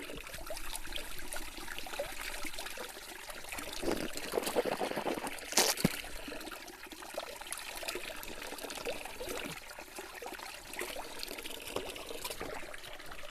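Cold natural spring water trickles steadily outdoors in a rural area, a faint continuous dribble with a brief louder splash midway.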